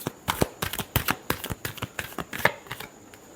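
A deck of tarot cards is shuffled in quick riffling bursts, a dozen or so sharp papery snaps in an uneven rhythm, close up and alone.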